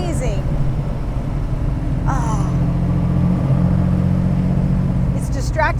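A one-off handmade aluminum-body roadster, the Daedalus, driving along a coastal road near Bixby Creek bridge. Its engine gives a steady, close, low rumble throughout, with a voice making brief excited exclamations over it.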